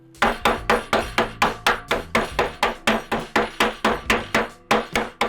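Wrapped ice cubes smacked against a table to crush them for a mint julep: about twenty sharp, evenly spaced thwacks in quick rhythm, close and loud, with no talking.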